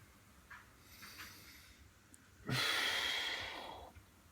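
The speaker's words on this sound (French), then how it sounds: "Puis là, tu travailles avec la respiration encore." Deep breath in and out during a cycling stretching session, holding the ankle with both hands: soft airy inhales early, then a louder, longer exhale lasting about two seconds, close and alone.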